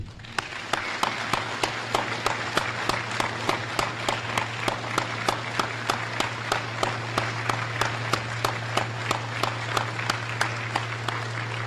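Sustained applause from an audience at a Veteran's Day program, with steady rapid clapping continuing evenly and fairly close throughout, no speech over it.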